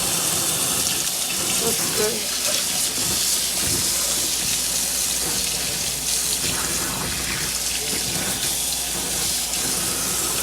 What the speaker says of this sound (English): it says to rinse with lukewarm water